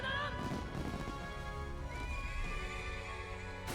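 A horse in the video game Metaphor: ReFantazio neighs and whinnies over the clip-clop of hooves, set against a continuous bed of game sound that runs throughout.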